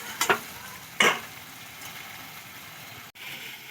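Spoon scrapes and stirs fried potatoes in a hot pan, a few sharp scraping strokes over a soft continuous sizzle, close by with no talking.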